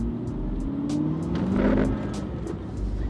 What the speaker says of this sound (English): you just tickle that accelerator and it'll give you a fair warning of what it can do